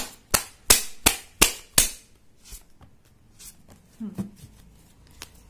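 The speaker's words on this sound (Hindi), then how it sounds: "कुछ 2 कार्ड और मैं शफल करती हूँ" Tarot cards are riffled in quick sharp bursts: five crisp snaps in a steady rhythm, then softer scattered flicks and taps. A voice comes in briefly near the end.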